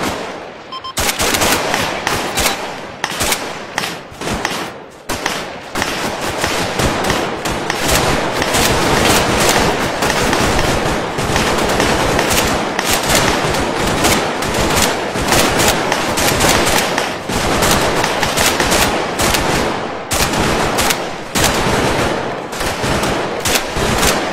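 Sustained machine gun fire aimed at a vehicle and soldiers rattles in long rapid bursts, loud and close, with brief pauses between volleys and no talking over it.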